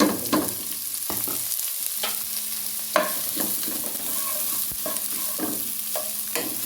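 Ginger, garlic and onion fry in hot oil for a macaroni lunch-box dish, giving a steady close sizzle broken by several sharp spoon scrapes and knocks against the pan.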